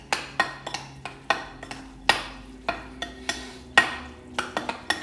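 Butternut squash filling being stirred with fresh ground pepper in a bowl, a spoon clinking and scraping the sides in a quick, irregular series of taps, close and fairly quiet with no voices.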